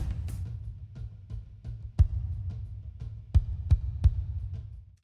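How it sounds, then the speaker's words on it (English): A deep bass drum thumps repeatedly at an uneven pace, each hit followed by a boomy reverberant tail, with no other instruments or voices. "Listen to how much reverb the bass drum has."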